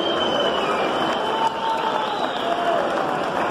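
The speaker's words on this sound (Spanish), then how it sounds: "un fuerte aplauso para ellos." Audience in Humahuaca, Jujuy applauding the folk musicians Churos Changos, a steady broad roll of clapping with some crowd noise and cheering, and a faint tone running underneath.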